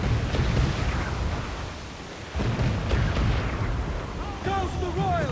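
Ship cannon fire in Assassin's Creed IV: Black Flag, loud booming blasts over rolling sea and wind, with shouting crew voices throughout and a brief lull midway.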